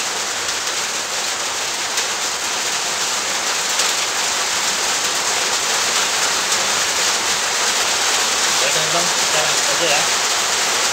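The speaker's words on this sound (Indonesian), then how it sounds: "Ini hujan gede." Heavy rain pours down in a steady, loud hiss that fills the whole stretch without letting up, with a faint voice underneath near the end.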